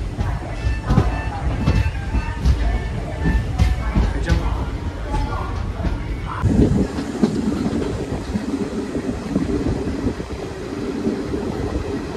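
A passenger train on the Konkan railway near Ratnagiri rumbles loudly along the rails, with continuous clattering and clanking wagons and a shift in tone partway through.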